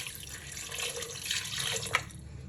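Water pours steadily into a cooking pot for beef yakhni pulao, about one and a half glasses, a continuous close splashing stream with a brief brighter splash near the end and no talk.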